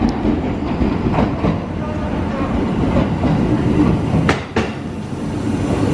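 A train rumbles and clatters loudly nearby as it rolls into a station in Japan, with a few sharp metallic clicks; no talking.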